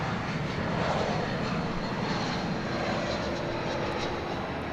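An Airbus A320 jet at an airport at night makes a steady, broad engine roar at moderate distance, holding constant with no speech over it.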